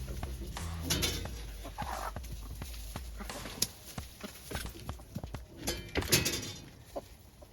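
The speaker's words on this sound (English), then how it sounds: "So these are our female Brahmas." Female Brahma hens in a crowded coop give soft scattered clucks and rustle about nearby, with scraping and shuffling noises and a person speaking quietly in between.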